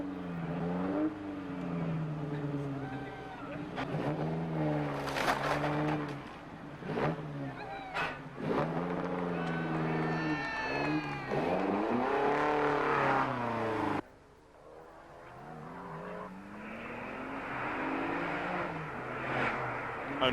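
Rally cars at the TARGA Tasmania 2002 tarmac event race past, engines revving and shifting through gears in rising and falling sweeps, loud and close, with a commentator talking over much of the action.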